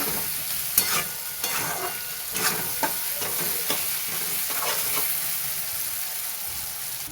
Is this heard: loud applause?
no